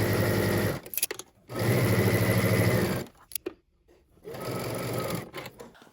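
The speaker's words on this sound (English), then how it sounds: "we're going to head to the sewing machine and we're going to stitch" A sewing machine stitches a garment's center back seam in three steady bursts of rapid stitching, separated by short pauses with faint handling noises.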